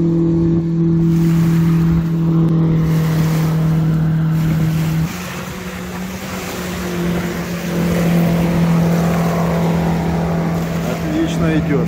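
A Discovery water-jet boat motor drones steadily on open water during handling trials, a loud continuous engine hum with a brief dip midway before building again.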